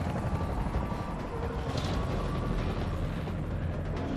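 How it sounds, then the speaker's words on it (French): A helicopter in a French zombie action film thunders with a loud, continuous rotor rumble, heavy and close throughout, with a dense low roar and no speech. "L'hélicoptère va vous conduire en lieu sûr."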